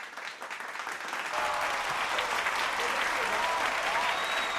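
A studio audience claps steadily to welcome a guest onto a talk show, the applause building over the first second and then staying full and sustained, with a voice faintly heard beneath it.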